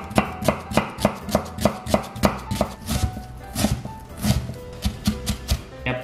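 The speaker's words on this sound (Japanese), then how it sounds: "こちらの玉ねぎは今回みじん切りにしていきます" Onion being finely minced with a knife on a cutting board: a steady run of crisp, close chops in an even rhythm, loosening into quicker, busier strokes toward the end.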